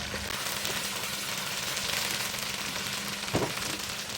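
Spicy chicken wings frying in hot oil, a continuous close sizzle and crackle, with a single sharp clink of a spoon stirring the pan near the end.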